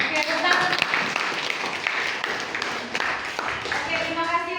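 A classroom of students claps together in a lesson, a brisk irregular patter of hands close by, mixed with scattered voices throughout.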